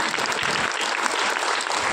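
Audience applause fills a book fair talk in Kanchipuram, a dense, steady wash of clapping from many hands that holds at an even level for two seconds.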